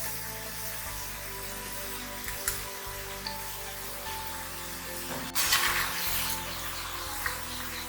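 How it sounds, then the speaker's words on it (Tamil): Vegetables frying in hot oil for a vegetable lunch, a steady soft sizzle and bubbling crackle running throughout, with a brief louder burst of spitting near the middle. "நல்லா இந்த பபிள்ஸ்லாம் போகிற வரைக்கும் நல்லா ஃப்ரை பண்ணிக்கலாம்"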